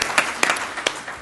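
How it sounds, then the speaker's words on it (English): Brief applause from a conference audience at a closing panel, a soft spread of clapping with a few distinct sharper claps, short and moderately close, no voices on top. "we owe a round of applause to the IAPAC and particularly to Dr. Zuniga"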